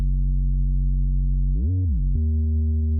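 A deep, smooth synth bass in Logic Pro X holds a low sustained note, slides to another pitch, then settles on a new note, steady and loud.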